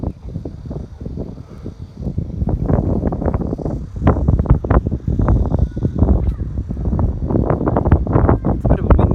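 Strong wind buffeting the microphone on a windy day in a park in Lingang, Shanghai, near the ocean, heavy gusty rumbles and thumps continuing throughout, loud and close with no clear talking.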